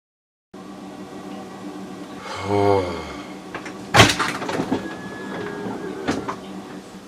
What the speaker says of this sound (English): And the wife just opened up the RV door